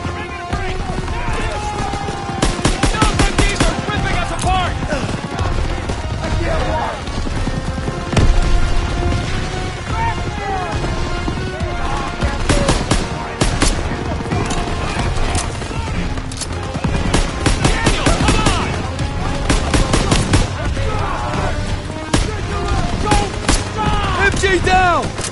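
Dense bursts of machine gun fire and rifle shots crackle repeatedly in a World War II battle in the Call of Duty WW2 video game, loud and continuous with scattered booms and overlapping gunfire.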